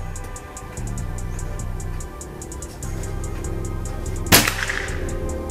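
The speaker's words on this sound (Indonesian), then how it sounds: "ini tembakan ketiga" A single sharp gunshot cracks out loud and close near the end, standing alone over a steady low hum.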